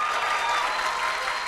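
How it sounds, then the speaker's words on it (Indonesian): A live comedy audience applauds together, dense, even clapping that holds steady and fairly close throughout, with no voices over it. "Nah, tepuk tangan, bagus."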